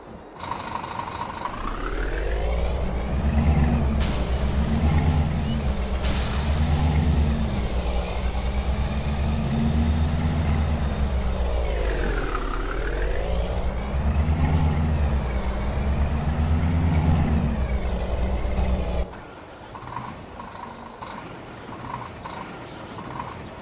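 A Scania 114G/124G truck engine tuned to 480 hp in Farming Simulator 22 drones steadily with deep rumbling, rising and falling in pitch as it revs and shifts, ending abruptly into a quieter idle.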